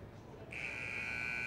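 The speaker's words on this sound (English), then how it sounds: "Buzzer finally sounding for Highbrow Sally Catt and Matt Sargood." A steady electronic buzzer tone starts partway in and holds continuously to the end, loud over a low background murmur, at a cutting horse championship arena.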